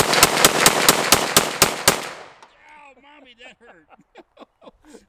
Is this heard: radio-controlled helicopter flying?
no